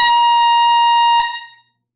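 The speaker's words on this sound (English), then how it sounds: "He's getting the second air horn of the night right into the camera." A loud air horn blasts straight into the camera at a live record sale, one steady, harsh tone held for over a second before cutting off into silence.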